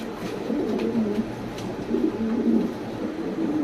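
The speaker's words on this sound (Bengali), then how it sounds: "দর্শক এখানে একজোড়া ব্ল্যাক স্প্যানিশ পটার, অনেক টপ কোয়ালিটি।" A pair of black Spanish pouter pigeons coo in low, repeated throaty rolls close by, several soft bursts over a quiet background.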